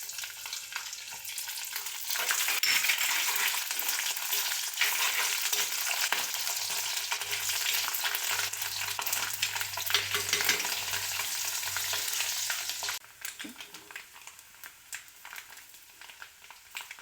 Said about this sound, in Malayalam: കടുക് പൊട്ടിക്കഴിയുമ്പോൾ തേങ്ങാക്കൊത്തിട്ട് കൊടുക്കണം.